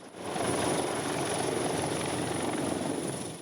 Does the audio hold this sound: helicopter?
yes